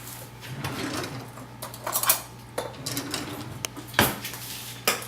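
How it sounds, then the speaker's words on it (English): A spoon is picked out from among kitchen utensils while a layered strawberry shortcake parfait is being made, giving several close metallic clinks and light scrapes at irregular intervals. "I'm actually going to grab a spoon here to help out."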